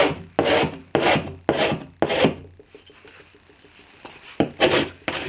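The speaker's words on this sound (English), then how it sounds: "I'm pushing down in one direction and just cutting it with the edge of my file" A metal file rasps along the edge of a wooden bed frame in one-directional push strokes: four loud, evenly spaced scrapes, a quieter stretch of small scratches, then two more strong strokes, close up with no talking.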